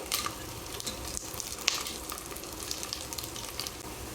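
Onions and curry leaves fry in oil for tomato rice, a quiet, even crackling sizzle with occasional faint stirring clicks and sharper pops, no talking.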